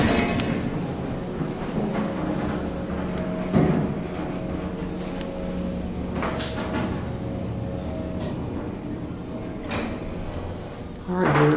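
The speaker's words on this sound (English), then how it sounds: "Door's a little finicky." A vintage Westinghouse hydraulic freight elevator door operates with a continuous rumbling slide, punctuated by a few clunks and knocks, close and fairly loud throughout.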